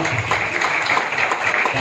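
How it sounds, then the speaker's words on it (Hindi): Dense, steady applause from a crowd at a Bhojpuri OTT platform launch ceremony, a continuous wash of clapping held at even loudness throughout. "आप लोग जोरदार ताली बजाइए"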